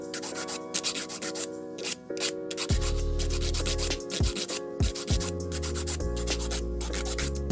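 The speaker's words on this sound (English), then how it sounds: "we're going to file that out, smooth it away" A nail file rasps back and forth over a bump on a dip-powder nail, producing close, loud, rhythmic scraping strokes in quick repeated passes.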